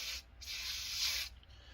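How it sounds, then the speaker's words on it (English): Chain lube sprayed from an aerosol can into a hole on a motorcycle during a horn install, heard as two close, steady hissing bursts separated by a short pause. "I'm going to spray a little chain lube right inside that hole right there"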